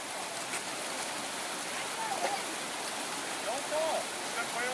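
A brook rushes steadily at a river crossing on a snowy winter hiking trail, a broad, close, continuous wash of water with faint higher warbling sounds mixed in.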